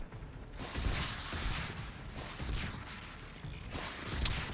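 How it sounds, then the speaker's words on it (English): Rapid bursts of gunfire in Mass Effect 3 crackle continuously, dense and layered like a firefight against Geth heard at mid-distance, with no voices. "I hear a lot of gunfire."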